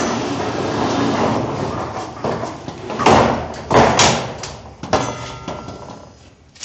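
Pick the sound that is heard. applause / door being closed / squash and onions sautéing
door being closed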